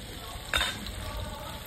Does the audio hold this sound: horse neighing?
no